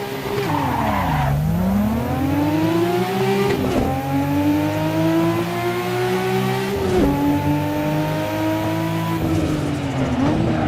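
Race car in Assetto Corsa launching hard and accelerating, loud engine climbing in pitch through several gear shifts with tire squeal, continuous and close with no talk.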